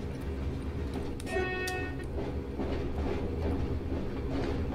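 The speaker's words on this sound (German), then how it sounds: "Lassen wir mal unseren Zug mit leeren Stahlwaggons hier vorbeifahren." Empty steel freight wagons roll past behind a DB class 155 electric locomotive in the Train Sim World game, a steady near rumble with a brief high squeal or toot midway.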